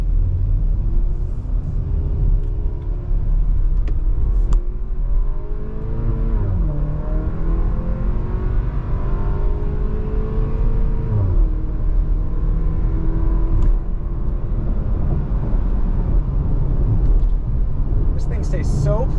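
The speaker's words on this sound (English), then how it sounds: "let's see what it can do." A 2022 Porsche Macan base model engine revs and accelerates steadily, its pitch rising and falling through gear changes, with a constant loud road rumble throughout.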